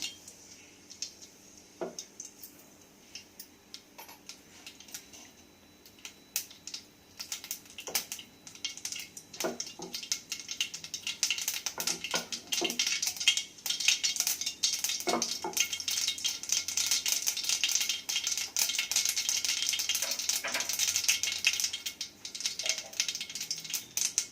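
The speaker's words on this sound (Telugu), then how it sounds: "ఇప్పుడు వేడెక్కిన ఆయిల్లోకి ఆవాలు వేస్తాము. ఆవాలు చిట్పట్లాడాలి." Mustard seeds splutter in hot oil while a stuffed ridge gourd (beerakaya) curry is being made. Scattered sharp pops build into a dense, continuous crackle of close-up spitting.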